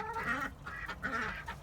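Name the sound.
backyard ducks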